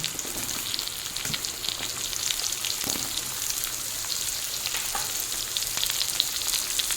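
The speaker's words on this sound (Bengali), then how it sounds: "এখন দেবো কেটে রাখা আলু।" Cut potatoes fry in a pan of onions and mustard oil, giving a continuous close crackling sizzle with scattered pops and faint stirring scrapes, no talking.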